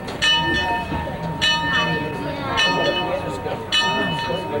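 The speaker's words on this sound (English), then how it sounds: "Ring that bell." A train bell rings in repeated metallic strikes roughly every second over the rumble of rolling railcars, fairly close and loud, with voices talking in the background.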